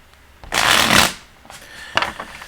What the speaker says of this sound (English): 3 more shuffles for the final one.